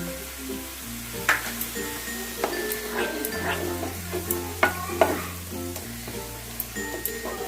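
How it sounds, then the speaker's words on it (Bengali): Onions and spices being stirred with a utensil in a hot frying pan while cooking a Bengali boal fish kalia, with a steady sizzle and repeated scraping, clinking strokes, close and fairly soft, with no talking. "মশলাগুলো আমি ভালো করে পেঁয়াজের সাথে মিশিয়ে নিলাম"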